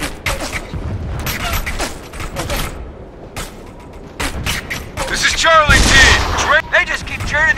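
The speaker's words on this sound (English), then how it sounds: "Charlie Team. We're getting shot at." Gunfire in the video game Operation Flashpoint: Red River, with repeated sharp shots and bursts at varying distances and mechanical clatter, while voices talk over the fighting.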